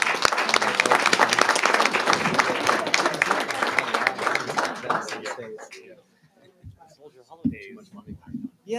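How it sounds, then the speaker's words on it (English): At a ceremonial bill signing on education, a roomful of people claps loudly for teachers for about five seconds, then the applause thins to scattered claps and a few voices. "All right, a big round of applause for our teachers."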